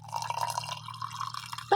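Hot water poured from a kettle, a steady close liquid stream with a constant trickling texture, then a short clink of glass at the very end.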